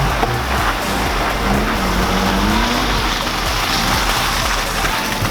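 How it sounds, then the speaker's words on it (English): A Mazda RX-8 spinning donuts in the snow, its engine droning loudly with a tire squeal rising and falling over a constant rushing wash of noise. "He's bringing it out in the middle of the snow, just hucking donuts"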